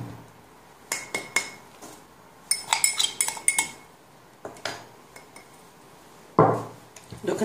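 A utensil clinks and scrapes against a bowl in irregular bursts while sugar is mixed into butter, with sharp metallic taps and quieter gaps between strokes.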